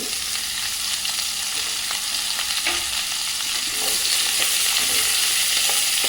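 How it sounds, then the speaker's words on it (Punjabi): Bottle gourd and potato frying lightly in mustard oil, a steady close sizzle broken by scraping and stirring sounds from a spoon in the pan. "ਆਪਾਂ ਇਹਨੂੰ ਕਰਾਂਗੇ ਹਲਕਾ ਜਿਹਾ ਫਰਾਈ"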